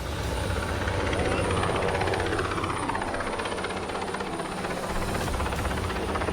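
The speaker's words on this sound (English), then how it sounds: "Buster, inside the hamster ball, will be hanging below this helicopter on a tether." A helicopter's loud, steady rotor thrum and engine whine fill the air continuously, close by and unbroken throughout, as it lifts a person in a giant hamster ball hanging below on a tether.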